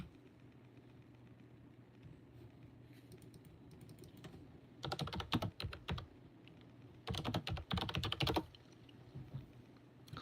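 Clattering keystrokes on a broken computer keyboard come in two dense bursts of rapid typing, close and moderately loud, separated by quieter stretches over a low background hum.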